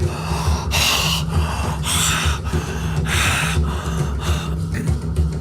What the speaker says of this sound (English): Then you increase the breath